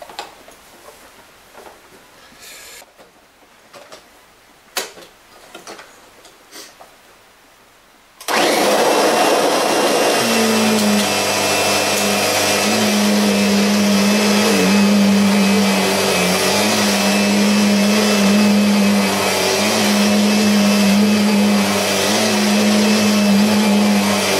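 Kirby G4 upright vacuum with a 700 watt motor picking up salt from a carpet, starting abruptly with a loud whoosh and settling into a steady motor roar with a droning hum, close and continuous.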